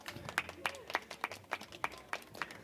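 A small group claps in an evenly spaced rhythm, about nine distinct claps over a few seconds, faint and sparse.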